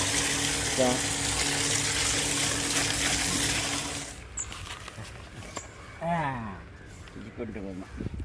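Fresh turmeric roots are rinsed by hand in water, with steady splashing and trickling for about four seconds before it fades and someone speaks.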